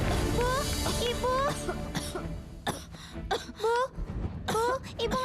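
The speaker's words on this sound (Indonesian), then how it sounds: "Dari tadi ibu batuk-batuk terus." A woman in an Indonesian TV drama coughs in repeated harsh bursts, spread across several seconds, with whimpering, wailing voices and a music score running underneath.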